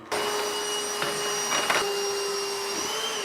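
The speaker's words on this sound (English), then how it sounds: "For the flywheel housing, just get a vacuum." A vacuum cleaner runs steadily while cleaning out a rowing machine's flywheel housing, a loud constant whine with small bumps and tonal shifts as the nozzle moves, with no talking.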